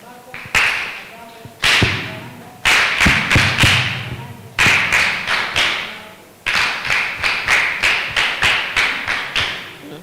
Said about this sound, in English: You can even clap for her.